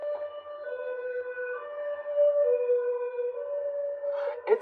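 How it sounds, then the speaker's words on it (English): An ambulance siren wails with a steady, slightly wavering tone, holding for several seconds at moderate distance. "That was the ambulance."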